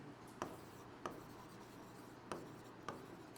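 Pen strokes on paper while equations are written by hand, four short sharp scratches at uneven intervals, close and quiet against a faint room hiss.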